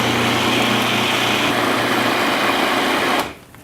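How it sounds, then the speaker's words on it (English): A food processor whirs steadily at high speed while pulsing a white bean burger mixture, a loud, continuous motor buzz that stops abruptly after about three seconds. "now what we're gonna do is pulse this until it's all nice and smooth"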